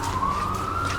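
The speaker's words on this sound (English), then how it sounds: "As we're entering here, the Chinatown area, there's sirens popping up and all that." A siren on a street in Vancouver's Chinatown rises slowly in a long steady wail, loud and fairly close, over a low rumble of city traffic.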